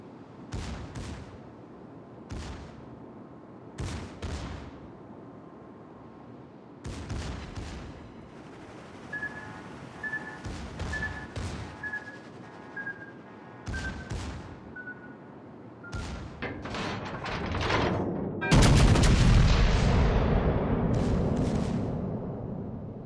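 Naval guns firing at an enemy warship in a World War II-style battleship game aboard the Vittorio Veneto, with repeated heavy booming salvos in bursts, a tonal whine in between, and a sustained roaring blast near the end.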